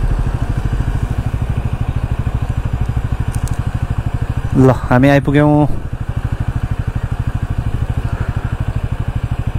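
A motorcycle engine idles nearby with a steady, rapid low thumping that runs throughout, while people talk over it briefly midway.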